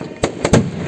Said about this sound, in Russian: Смотрите, прям над нами салют!